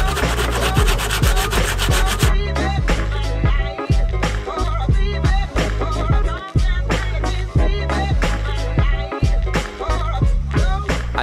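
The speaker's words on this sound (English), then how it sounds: "That's the reason why I bought the sandpaper. I need to remove the rust," Sandpaper scrubs rust off a car's metal body in rapid, steady back-and-forth strokes, loud and close, repeating rhythmically throughout with no talking.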